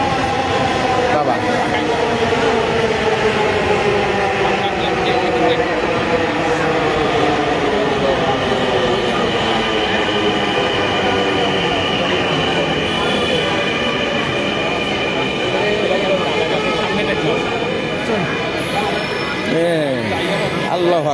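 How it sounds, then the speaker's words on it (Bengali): A train pulls into a station, its rumble and clattering wagons loud and close throughout, with squealing wheels toward the end as it slows, while people talk over the noise. "ট্রেন চলে এসেছে"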